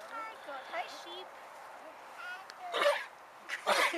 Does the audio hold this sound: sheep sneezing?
yes